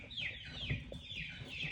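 A baby turkey poult with spraddle legs peeps in a brooder, giving repeated high, clear chirps in a steady run, fairly close, over a low background hum.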